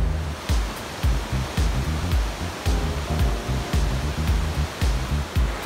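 Steady rushing water of the Manaslu River rapids roars continuously, broadband and close, with rhythmic low thumps punctuating the flow like wind buffeting a microphone.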